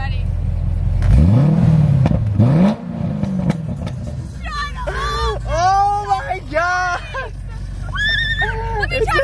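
A Corvette engine revs in a driveway, rising and falling once or twice near the start, then people's excited voices and exclamations take over and dominate the rest.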